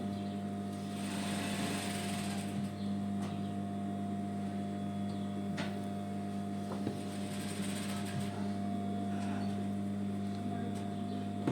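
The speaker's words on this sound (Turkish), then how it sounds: "köşeye kadar şöyle dikiyorum" A home sewing machine stitches sweatshirt fabric with a steady, continuous motor whir and rapid needle hum, running without pause at close range.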